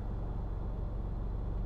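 Steady low rumble of cars and other traffic rolling along an avenue beside a gas station, heard from inside a Toyota Camry with the air conditioning running at full; continuous and fairly close, with no talking.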